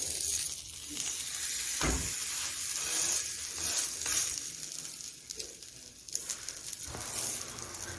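Venezuelan arepas sizzling on a hot griddle, a steady bright frying hiss throughout with a few soft handling knocks and scrapes, close and continuous with no talking.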